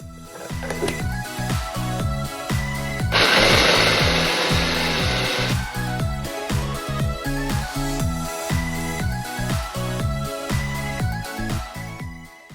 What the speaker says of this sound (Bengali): এবার সয়াবিন গুলো একসাথে রাফলি ব্লেন্ড করে নিচ্ছি।